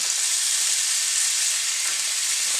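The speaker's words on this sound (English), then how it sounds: "We're going to take our lamb and just place it in the cast iron skillet." Lamb loin chops searing in olive oil in a cast iron skillet give off a loud, steady, close hiss of sizzling fat with no breaks.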